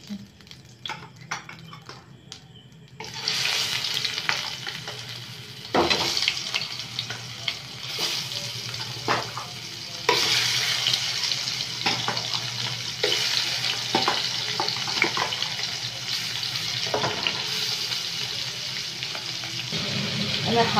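Hilsa fish sizzling as it drops into hot mustard oil, a loud steady crackling fry that starts abruptly after a quiet moment and continues with occasional stirring and spatter, no talk.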